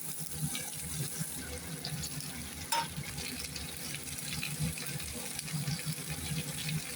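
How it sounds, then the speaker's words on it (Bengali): Garlic frying in a pan before tomato goes in, a soft continuous sizzle and hiss with faint crackles and occasional clinks, close and steady throughout. "রসুনটা একটু লাল লাল করে ভাজে, তারপর টমাটোটা দেবো,"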